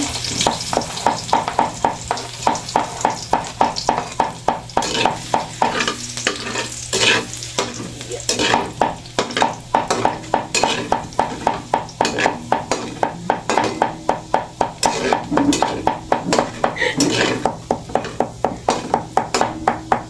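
Garlic sizzles in a hot pan while a utensil stirs and scrapes in a quick, steady rhythm, making repeated metallic clinks over the frying during cooking of lumpiang togue.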